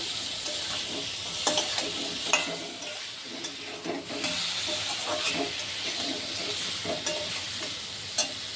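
Homemade spice paste hits a hot pan and fries with a steady, close sizzle and hiss, broken by repeated scrapes and clinks of a spoon stirring against the pan.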